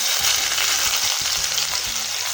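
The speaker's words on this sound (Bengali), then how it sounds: "পেঁয়াজটা দিয়ে এবার ভালো করে লাল লাল করে পেঁয়াজটাকে ভেজে নেব।" Chopped onion fries in sugar melted and caramelized in a pan, giving a loud, continuous sizzle with faint stirring throughout.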